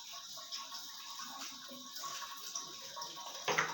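Clay oil lamps are washed in water, giving a faint, steady splashing and trickling with one slightly louder splash near the end.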